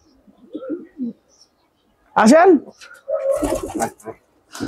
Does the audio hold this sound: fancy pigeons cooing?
yes